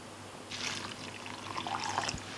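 A glass of water is poured over salted onions, then they are rinsed and strained, giving a soft splashing, trickling flow that runs steadily for about two seconds with no speech.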